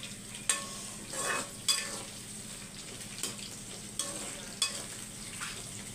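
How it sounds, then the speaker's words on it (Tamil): Meal maker soya chunks fry in hot oil with a soft, steady sizzle, broken by several scraping stirs of a ladle in the pan, quiet and close with no talking. "பாருங்கள் மில் மேக்கர் நல்லா பொரிஞ்சிருச்சு."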